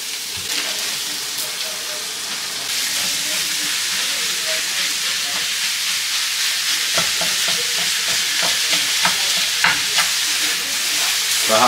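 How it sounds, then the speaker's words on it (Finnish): Minced meat fries in a pan with a loud, continuous sizzle and hiss, and occasional scraping stirs and clicks come through near the end. "Sitten vähän jauhelihaa pannulle."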